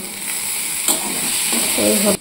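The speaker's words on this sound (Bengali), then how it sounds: "এখানে এই যে ভাজা হচ্ছে, এখানে রয়েছে কুমড়ো, উচ্ছে আর পেঁপে" Pumpkin, bitter gourd and papaya fry with nigella seeds in a pan, giving a steady close sizzle with some brief stirring scrapes.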